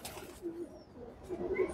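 A domestic pigeon coos softly close by, a couple of low murmuring coos in under two seconds against quiet background noise.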